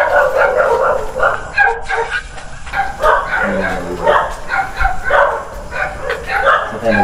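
A dog near a mansion in Laguna barks and yips repeatedly in quick, uneven bursts, loud and close, with whimpering cries between barks and voices mixed underneath.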